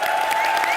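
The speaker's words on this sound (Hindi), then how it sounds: "चलिए, हाउसफुल की टीम के लिए जोरदार तालियां हो जाए।" Brief burst of studio audience applause for the Housefull team on a comedy talk show, dense and steady clapping at a moderate level, heard alone.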